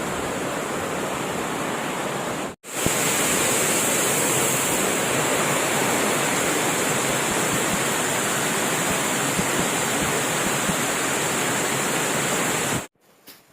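The Koshmal waterfall in Dang, Gujarat, gives a loud, dense, continuous roar of falling water that fills the space. A brief dropout near the start and another at the end interrupt the roar.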